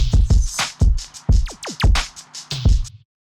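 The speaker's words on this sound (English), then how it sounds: "So the next layer we have is this tom" A series of deep, punchy tom hits with pitch-bending tails, about eight strikes in an uneven rhythm, loud and close with no other sound.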